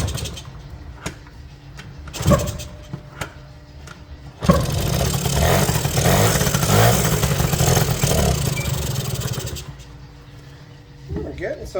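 A 1980 Suzuki Snip FS50 moped is kicked over and its small engine catches, settling into a steady, fairly loud buzzing run for several seconds after a few short thumps.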